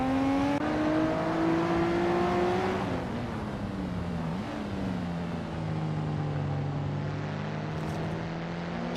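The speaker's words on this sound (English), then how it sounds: "Daebong Ho is driving a 2003 Mitsubishi Evo AFQ 400" A 2003 Mitsubishi Evo AFQ 400 in a racing game, engine droning at steady high revs with a pitch drop as it shifts, then climbing again, continuous and close.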